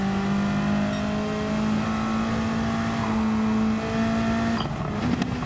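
Race car engine in Gran Turismo 7 held on throttle, a loud, steady, high-pitched whine that climbs slightly before a brief shift-like dip near the end, with no talking.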